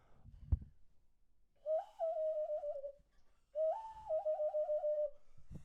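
A person whistles an imitation of a barn owl call twice, each a rising note followed by a wavering, trilling hoot, close and clear in a quiet room.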